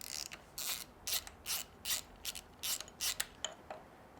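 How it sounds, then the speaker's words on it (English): Removing a bolt and dowel pin from the cam gear of a Ferrari F355 during a timing belt job: a series of close metallic ratcheting and scraping strokes in an irregular rhythm, clear against a quiet background. "So, let me pop out our bolt and our dowel pin here."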